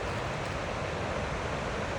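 The McKenzie River rushes hard past Leaburg Dam in a steady, dense roar that stays constant throughout, with no voices.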